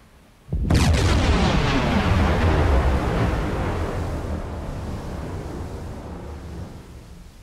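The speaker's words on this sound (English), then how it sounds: "Huge hit with our last torpedo." A torpedo strikes a ship in the submarine game Silent Hunter 4, bursting into a sudden heavy blast that rolls into a long, thundering rumble and fades slowly over several seconds, loud and alone.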